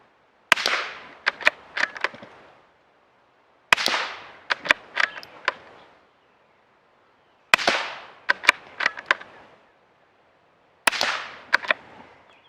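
Four suppressed shots from a bolt-action rifle firing standard-velocity ammunition, evenly spaced about three seconds apart. Each sharp report is followed by a quick cluster of clicks and cracks, with short silences between shots and no talking.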